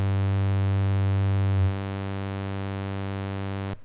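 A lone oscillator on a Dreadbox Murmux v2 synthesizer holds one steady, buzzy, harmonic-rich tone. Partway through its low fundamental drops slightly, and it cuts off cleanly just before the end.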